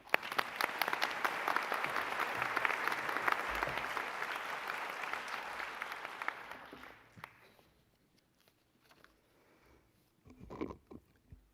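Audience applause welcoming a dean to the podium at a medical school white coat investiture ceremony, a dense sustained crowd clapping for about seven seconds before fading out, followed by quiet room noise and a brief shuffle.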